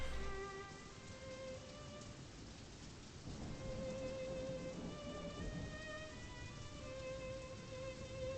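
Steady rain falls through a dark horror video game scene, a dense broadband wash with occasional low rumbling like distant thunder and faint tonal music lines, with no voices.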